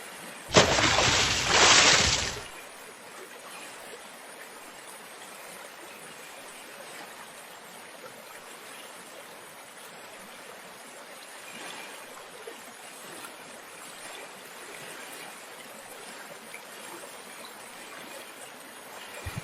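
A fishing net hits pond water with a sudden loud splash and rush lasting about two seconds, followed by a low, steady watery hiss and faint trickling.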